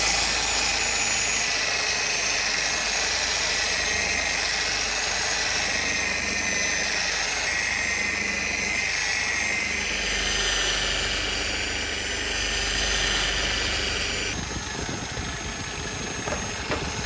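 A buffing machine polishes used plastic from a vintage 1982 Suzuki RM 250 motorcycle, giving a steady, loud motorized whine that runs throughout. The pitch shifts slightly as the plastic is fed against the wheel.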